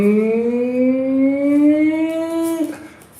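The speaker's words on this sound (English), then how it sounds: "they keep having the tsunami siren here" A tsunami warning siren wails loud and steady, its pitch slowly rising before dropping off abruptly near the end, with no talk over it.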